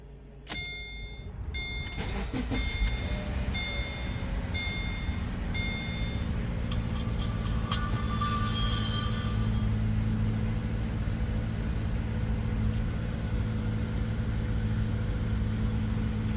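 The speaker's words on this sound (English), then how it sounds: "First time turning it on, key in ignition." A Subaru Forester's ignition switches on with a sharp key click, then a steady low hum and faint electronic chime tones heard close from inside the cabin.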